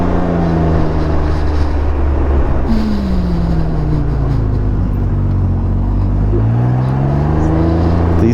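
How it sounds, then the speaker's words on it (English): A Can-Am Ryker 900 three-wheeled motorcycle engine revs up and down steadily in city riding, a loud, close, continuous drone with rising and falling pitch. "These Rykers, it's so hard to just keep that throttle all nice and tame."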